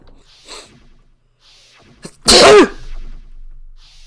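A single loud, sharp sneeze bursts out close by after a soft breath, surrounded by quiet rustling, in the video game Danganronpa: Trigger Happy Havoc.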